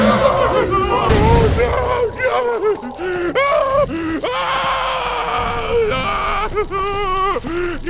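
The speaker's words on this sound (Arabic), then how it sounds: "لو حرقتهم رح تسمع صريخهم كالتالي" Burning zombies in Half-Life 2 let out loud, strained, warbling screams and groans in repeated wavering cries with a burst of crackling fire noise early on, close and prominent.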